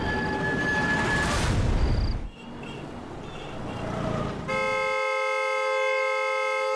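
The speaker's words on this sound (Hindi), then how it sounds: "अरे कौन है ये नॉन स्टॉप हॉर्न बजा रहा है?" A vehicle horn sounds, partly masked by loud traffic noise at first, then blares in one long unbroken steady tone through the final seconds.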